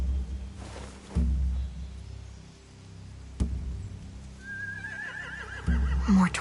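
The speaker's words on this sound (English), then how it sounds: "They have horses." Horses in The Walking Dead: The Final Season video game give a wavering whinny near the end, following dull thumps and low rumbles, moderately close with no talking.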